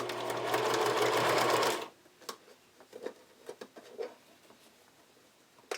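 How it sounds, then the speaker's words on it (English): A sewing machine runs a wide multi-step zigzag stitch on bra foam, giving a fast, loud continuous whirr for under two seconds before it stops abruptly; faint scattered clicks and handling taps follow. "sewing machine set to a wide multi-step zigzag stitch"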